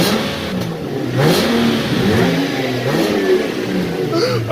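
A BMW E90/E92 330xi with its muffler deleted revs repeatedly, its raspy engine note rising and falling in quick blips, loud and close.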